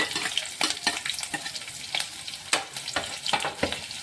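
Green chillies, curry leaves and beans fry in a hot pan, crackling and sizzling close up, with quick, repeated stirring scrapes against the metal.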